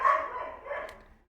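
Close by, a little dog lets out a short run of yappy barks that trail away into a faint whine and then fall silent.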